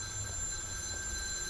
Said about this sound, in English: Finally, somebody ringing me for once instead of me having to ring everyone else.